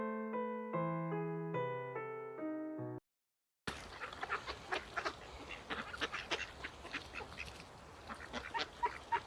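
Ducks on a river quacking in scattered, overlapping calls outdoors, moderately near, after an opening passage of music; no talk.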